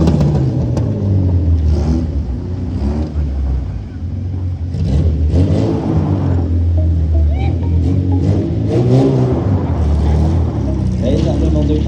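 A car revving hard and sliding on loose gravel, with a loud, continuous engine roar that rises and falls across the whole stretch, fluctuating in pitch as the wheels spin.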